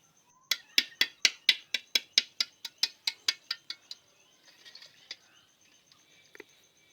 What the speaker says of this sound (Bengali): আমি এখন ডিমগুলো ছিলে নেব